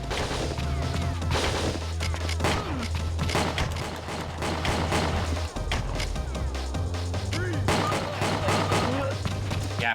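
Shotgun fire from enemy guards in a fast-paced shooter video game, a dense barrage of loud repeated blasts and crashing impacts with game music underneath for the full stretch.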